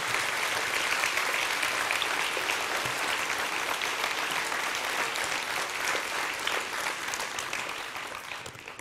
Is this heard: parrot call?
no